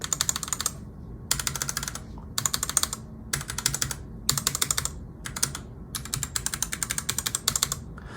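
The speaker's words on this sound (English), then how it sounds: "the sound of the switches does vary from the top to the bottom" Typing on a Wormier K87 mechanical keyboard with a clear acrylic case: bursts of quick, close, crisp keystroke clacks in uneven rhythm, separated by short pauses, with no talking.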